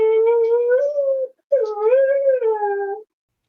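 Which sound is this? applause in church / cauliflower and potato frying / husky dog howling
husky dog howling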